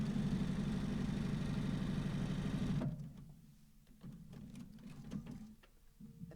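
Home sewing machine stitching fabric, a loud steady mechanical whir that runs continuously for a few seconds and then stops, leaving quiet handling clicks and faint rustling.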